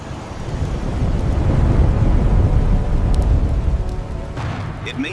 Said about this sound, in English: Then he sees a storm covering the coast.